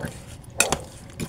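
Pork chops are stirred in a marinade, with a brief wet scrape and a couple of light clinks against the bowl, close and fairly loud, with no talking.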